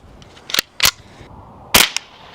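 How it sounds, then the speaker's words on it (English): A Ruger 10/22 rifle fires at a 150-pound slam ball, giving several sharp, short cracks: two in quick succession, a brief pause, then two more close together. "we're starting off with our Ruger 1022"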